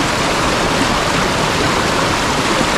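A strong river current rushing loudly and steadily after rain, a dense continuous roar of turbulent water with no break or voice throughout.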